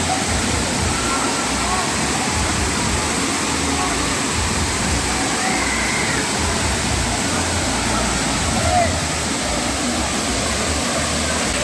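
Waterfall at Black Thunder water park in Mettupalayam, a man-made falls built to look natural, roars as a loud, continuous broadband rush of pouring water that stays steady throughout.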